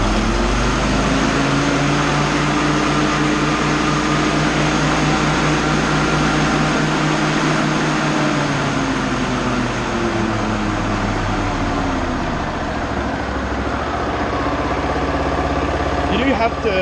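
A Toro TimeMaster walk-behind lawn mower engine running steadily nearby, a loud continuous drone with a slight pitch shift partway through, with speech over it.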